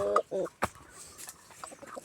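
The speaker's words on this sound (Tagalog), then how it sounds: "Ito yung manok." Chicken clucking close by, a few short throaty clucks in quick succession with a faint voice underneath.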